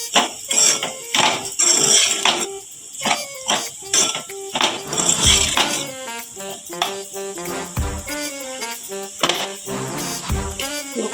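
Spatula stirring salt and chili powder through a potato fry in a metal pan, scraping and clinking in repeated bursts against the pan, loud and close, over steady music.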